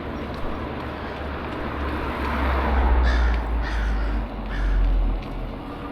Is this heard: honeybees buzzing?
no